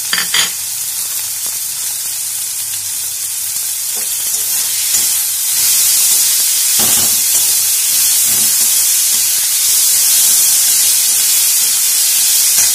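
Ginger and garlic sizzle loudly in a pan of softened tomatoes, a dense, steady hiss of frying with occasional stirring scrapes that grows a little louder partway through.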